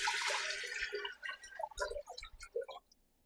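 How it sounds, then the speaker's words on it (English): Water splashes and trickles into a large soup pot for Jamaican chicken foot soup, a steady pour at first that breaks into uneven splashes and drips before stopping. "I'm going to add roughly 12 cups of water to the pot."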